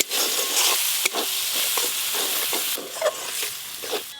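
Spices with chopped tomato, chilli powder, turmeric and salt are stir-fried in a pan. A steady sizzle runs under repeated scraping strokes of a spatula in an uneven rhythm, close by, with no talking.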